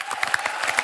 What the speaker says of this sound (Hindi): तमाम कलाकारों के लिए खुल के तालियां होनी चाहिए।